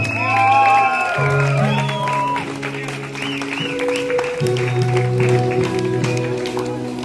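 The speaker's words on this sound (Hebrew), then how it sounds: "בואו נקבל אלינו חתן כלה, תנו להם ים של מחיאות כפיים" Guests at a wedding in Hadera, Israel clap and cheer to welcome the bride and groom, sustained applause and whoops mixed with loud festive music and crowd voices throughout.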